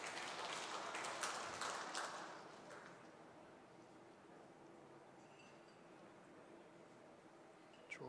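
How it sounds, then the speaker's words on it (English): A crowd applauds at a women's singles bowls grand final. The clapping is faint and distant, swells briefly at the start and then fades into a quiet venue hum. "Draws the applause from the crowd who are enjoying all 3 games on at the moment"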